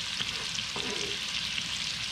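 Soy sauce, garlic and hot chili sautéing in a pan, a steady fine crackling sizzle with a couple of light stirring scrapes, moderately quiet and unbroken.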